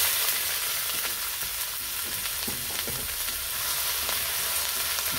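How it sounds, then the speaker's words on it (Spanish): Onion drops into hot oil in a frying pan for a Bolivian carnival puchero, and a loud, steady sizzle hisses throughout with small crackles and pops. "Aquí en la sartén puse aceite, dejé calentar un poco y voy a añadir la cebolla"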